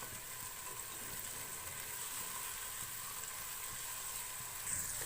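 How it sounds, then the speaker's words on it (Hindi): Garlic ginger paste frying in hot oil in a pan for vegetable pulao, a steady, continuous hiss and sizzle of moderate loudness, heard alone and close. "1½ टेबल स्पून लहसुन अदरक का पेस्ट ऐड करेंगे। थोड़ा सा भून लेंगे इसको 1 मिनट के लिए।"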